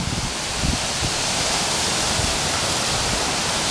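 Water rushes steadily past a wooden mill water wheel at Union Mills in Maryland, a constant broad, dense roar with no voices over it.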